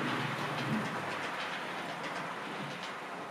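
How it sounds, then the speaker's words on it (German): An H0-scale model railway express train pulls away on the main line, giving a steady, close rolling hiss and rumble with faint rhythmic clicking of wheels over rail joints. "nimmt hier gerade ein Eilzug Fahrt auf der Hauptstrecke Richtung Osten"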